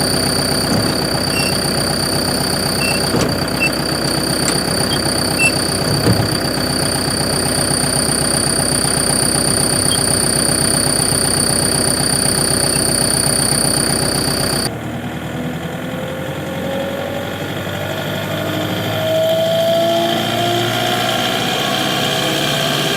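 A farm tractor's engine runs steadily with a PTO implement attached, a continuous idling drone with a faint knock that stays loud throughout, shifting to a rougher, lower rumble partway through.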